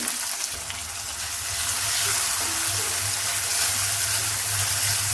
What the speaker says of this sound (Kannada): ಈರುಳ್ಳಿನ ಫ್ರೈ ಮಾಡ್ಕೊಳ್ತೀನಿ